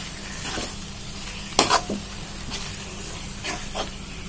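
Cooked gongura leaves fry in masala in a pan with a steady low sizzle, broken by a few sharp scraping stirs of a spoon, the loudest around the middle, with no voices.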